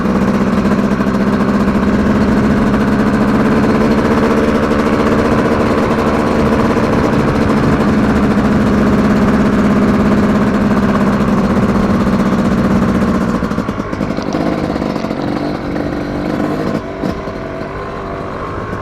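A 2025 Yamaha YZ250X dirt bike engine runs loudly and close at a steady idle, then its tone shifts and roughens near the end.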